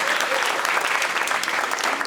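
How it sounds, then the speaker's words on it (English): A stand-up comedy audience in Berlin claps in a steady, full round of applause, dense and sustained throughout, with no voices standing out. "round of applause"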